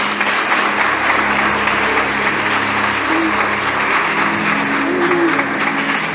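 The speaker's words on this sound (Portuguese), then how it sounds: "Se é para Jesus, pode aplaudir mais forte." A church congregation applauds steadily throughout, a dense, loud wash of clapping with a faint sustained tone underneath and no break in the noise.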